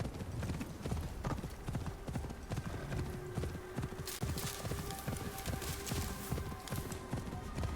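Steady, rapid clip-clop of horse hooves throughout in the video game Assassin's Creed Shadows on PS5, with a brief whinny and a constant background hum, no voices.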